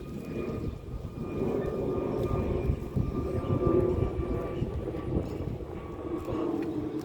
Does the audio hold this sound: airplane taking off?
yes